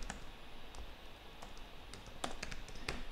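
Fingers type on a computer keyboard, giving a run of light, crisp clicks at an uneven pace over a faint steady background hiss, close by and with no talking.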